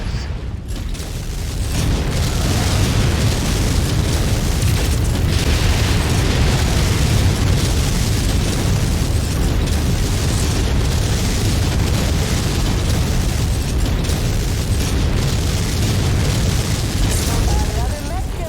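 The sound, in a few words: enemy artillery explosions in video game MechWarrior 5: Mercenaries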